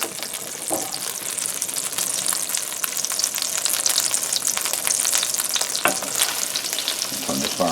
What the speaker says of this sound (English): And just let this butter melt.